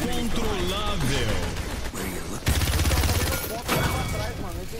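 Gunfire in the Paladins video game crackles continuously beneath a mix of game music and effects, with a voice talking over the busy, loud combat.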